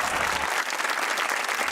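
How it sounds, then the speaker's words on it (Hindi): Dense, steady applause from a large comedy show audience, continuous and loud for the whole moment. "तालियां भी अच्छी हैं"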